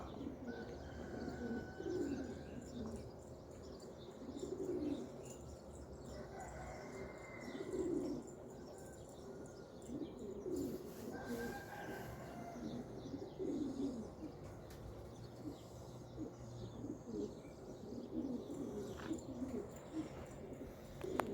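Pigeons coo in a steady repeating rhythm, soft and close, with occasional chirps and faint wing flutters in a quiet background.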